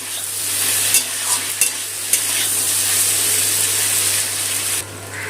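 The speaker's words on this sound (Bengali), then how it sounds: "আদা রসুন বাটাটা একটুখানি আলু বেগুনের সাথে ভেজে নেব।" Ginger-garlic paste fries with potato and eggplant in hot oil, making a loud, steady sizzle punctuated by a few sharp stirring knocks against the pan, close up over a constant low hum.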